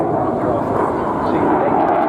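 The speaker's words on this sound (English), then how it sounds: "All these aircraft restored flying condition by volunteers and historic flight." Restored historic aircraft in flight, a steady, broad roaring drone that holds at an even loudness throughout without a break.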